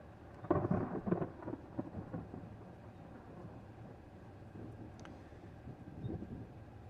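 Thunder rumbles low and distant during a storm in Iowa, a rolling burst early on that trails off into faint rain and wind noise, with a softer rumble returning near the end.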